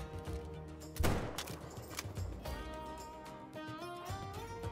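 A single 22-250 rifle shot cracks out in the hunting game Call of the Wild, a sharp burst about a second in over the game's ongoing musical soundtrack.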